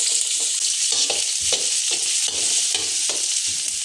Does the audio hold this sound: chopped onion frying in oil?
yes